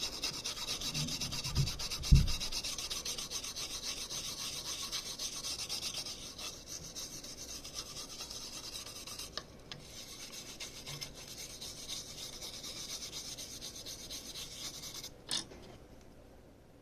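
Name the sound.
scrubbing NES game cartridge contacts with a toothbrush and alcohol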